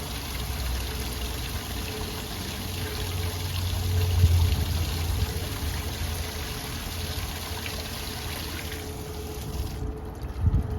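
A steady rush of water spraying from a hose while cleaning a chicken coop and run, broadband hiss held for about ten seconds, close by with no talking.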